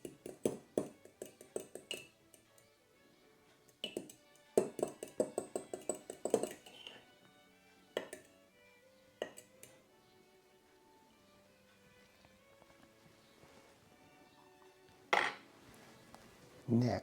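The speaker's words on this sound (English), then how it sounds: "Now we're going to lightly beat them with a fork" A fork beats eggs lightly in a bowl, with irregular clusters of close clinking taps separated by quiet pauses.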